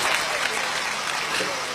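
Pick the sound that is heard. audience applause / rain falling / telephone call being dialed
audience applause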